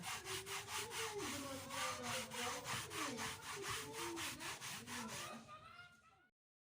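Steady back-and-forth rasping of sandpaper rubbing an old painted canvas, a rapid regular rhythm up close, stopping near the end.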